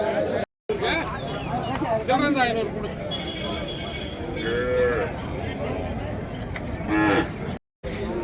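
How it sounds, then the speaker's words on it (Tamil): Calves low and moo repeatedly at a busy Tamil Nadu cattle market, their calls rising over constant crowd chatter while someone talks close by. "செவலில் ஒரு ஜோடி கன்று கொண்டு வந்திருக்காங்க நல்லா இருக்கு சூப்பராக"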